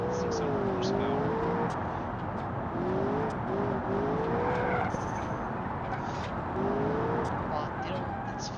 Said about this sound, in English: you do have to wait for the turbo to spool up to hit that 600 horsepower